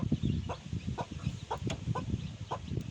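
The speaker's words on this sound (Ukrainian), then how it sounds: "У нас у мамочки кохінхінки вилупилось четверо курчаток" A Cochin hen clucks in soft, repeated low notes at a steady pace, close by, with faint high peeping from her four chicks mixed in.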